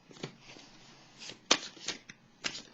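Tarot cards riffled and flicked in a series of quick papery bursts, close and clear, with short pauses between shuffles and no talking.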